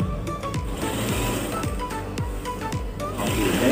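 A sewing machine stitches fabric in a straight line, its needle thumping in a steady rhythmic pulse, loud and close with no talk over it.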